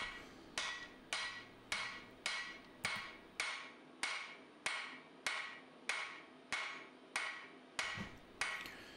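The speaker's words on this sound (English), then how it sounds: "I'm actually using the toe of the hammer. I'm actually using the top edge of the hammer as a fuller" Blacksmith's hammer forging a knife blade, using the top edge of the hammer as a fuller: a steady series of about fifteen loud, ringing metallic strikes at an even rhythm, close up, with no talking.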